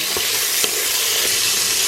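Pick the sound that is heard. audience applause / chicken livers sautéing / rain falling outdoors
chicken livers sautéing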